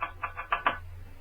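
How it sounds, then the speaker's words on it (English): An umbrella tip taps gently on a frosted glass door panel: five light, quick, evenly spaced taps close by, with the last two slightly sharper, over a low steady hum. "tapping gently on the frosted glass panel with the tip of his umbrella"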